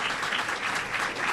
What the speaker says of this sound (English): How about a big round of applause for Admiral Harry Harris, everybody?